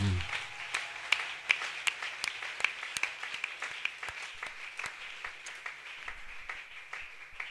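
A church congregation claps in acclaim, steady rhythmic applause with distinct regular beats, moderately distant and fairly soft, continuing for several seconds.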